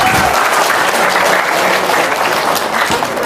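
Audience applause at a talk, a steady wash of clapping from a crowd that holds at even loudness for a few seconds without voices.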